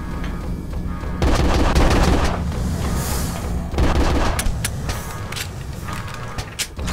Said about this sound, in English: I'm trying to shoot the barrels because I know my ammo is limited